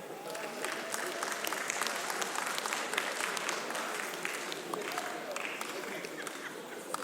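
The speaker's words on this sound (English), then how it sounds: "clap for her." Audience applause at a comedy show, dense continuous clapping sustained for about seven seconds with crowd murmur and voices mixed in underneath.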